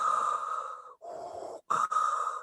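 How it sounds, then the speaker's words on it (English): Darth Vader's mechanical respirator breathing from a Star Wars film, slow and hollow, with a drawn-out inhale and exhale repeating up close, separated by short gaps and with nothing else sounding. "then we hear the breathing, and we all know what happens when we hear that breathing"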